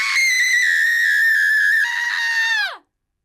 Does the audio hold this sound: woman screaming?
yes